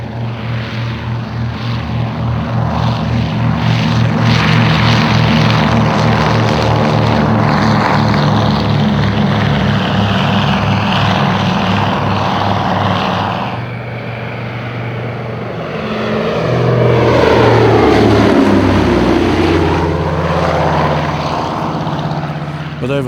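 Loud, steady drone of a WW2-era Catalina flying boat's piston propeller engines, swelling and shifting in pitch as it passes close by, with a brief dip before the roar returns.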